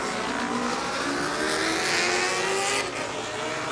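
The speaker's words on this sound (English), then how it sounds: "just listen to that machine of Tweeds leaving the grid" Supersport 400 racing motorcycle pulling away from the grid at the Cookstown 100 road races, a loud sustained engine roar with a rising pitch sweep, steady and close throughout with no talk.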